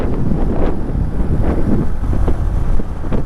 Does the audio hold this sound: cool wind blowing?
yes